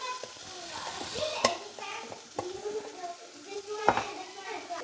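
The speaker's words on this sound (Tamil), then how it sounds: "கொஞ்சம் கிண்டி விட்டு நல்லாக்கேன்." A spoon stirs chopped tomatoes with turmeric and salt in a pan, soft sizzling under irregular scraping and clinking strokes against the metal, with a voice talking over the cooking.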